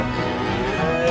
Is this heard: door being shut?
no